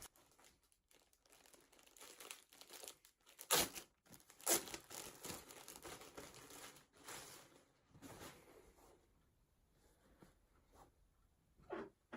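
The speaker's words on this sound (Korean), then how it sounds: "우선 비닐은 시끄러우니까 빨리 개봉하도록 하겠습니다." A plastic packaging bag around a pair of 87mm trousers is torn open by hand, giving close, irregular crinkling and rustling with two sharp ripping bursts near the middle and quieter handling between.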